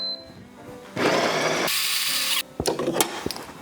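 Built-in grinder of a Ninja Luxe Café Premier grinding coffee beans, a loud steady whirring burst of about a second and a half, followed by a few short clicks and rattles.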